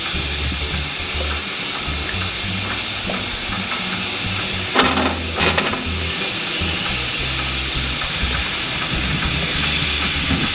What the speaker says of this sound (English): now it is already boiling